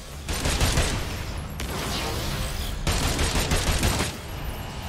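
Rapid automatic gunfire rattles in sustained bursts in the video game Agents of Mayhem, loud and continuous with short breaks between volleys and no talking.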